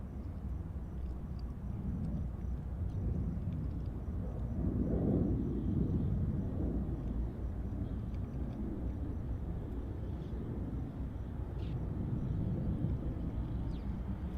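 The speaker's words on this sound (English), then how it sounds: "Dreamliner takeoff." A Boeing 787 Dreamliner taking off at Chicago O'Hare, a broad low roar that stays steady and distant, swelling slightly in the middle, with faint wind rumble.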